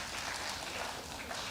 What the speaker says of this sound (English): Please, a round of applause for him here.